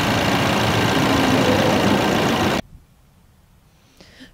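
Four-cylinder 2.3-liter Ford Ranger engine idling under the open hood, a steady close, loud broadband drone that cuts off abruptly partway through, leaving near silence with a faint knock near the end.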